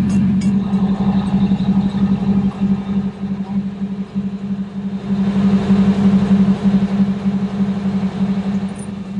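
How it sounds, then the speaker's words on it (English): A steady low boat engine drone runs continuously with a muffled, throbbing wet exhaust burble, close and fairly loud, with no voices. "a pretty good advertisement for the noise attenuation of a wet exhaust"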